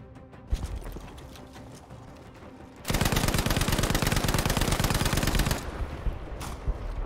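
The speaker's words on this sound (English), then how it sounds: "Rocking the MG42." An MG42 machine gun in Battlefield V fires one long, loud, rapid burst lasting nearly three seconds, with scattered softer gunfire and battlefield noise before and after it.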